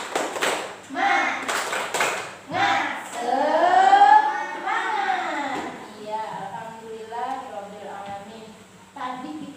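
An Indonesian primary-school class does the rhythmic 'tepuk semangat' clap routine: a quick run of sharp, close group claps in a patterned beat, then a teacher talks on.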